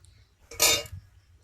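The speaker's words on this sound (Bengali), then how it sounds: "এভাবে করে ভালোভাবে আমি চাউমিনটাকে খুন্তির সাহায্যে নেড়ে চেড়ে আমি কিন্তু মিশিয়ে নিচ্ছি" A metal spatula scrapes once through chow mein in a wok, a short, bright, rasping stroke in an otherwise quiet kitchen.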